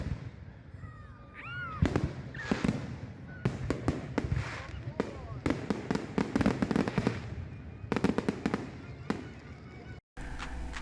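Canada Day fireworks display: a rapid, irregular barrage of sharp bangs and crackling bursts, some distant and some close, with a few voices in the crowd early on.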